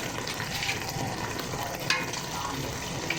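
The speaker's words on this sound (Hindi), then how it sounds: "इसमें लोबिया डालेंगे ताकि इसके साथ थोड़ा सा लोबिया भी फ्राई होता रहे साथ" Red kidney beans, lobia, frying and being stirred in a masala for a curry, a close, steady hiss and sizzle of oil with occasional faint utensil scrapes and no talking.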